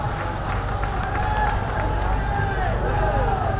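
A large crowd at an anti-corruption rally against black money, a dense continuous roar of many voices with scattered shouts and a low rumble, loud and unbroken throughout.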